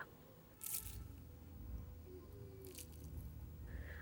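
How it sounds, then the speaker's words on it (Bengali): Crispy fried cauliflower pakora being bitten, with a sharp crunchy bite near the start and another crackly bite later, close and fairly quiet over a low background hum. "আওয়াজ শুনে বুঝতেই পেরেছেন ফুলকপির পকোড়াগুলো কতটা মুচমুচে তৈরি হয়েছে"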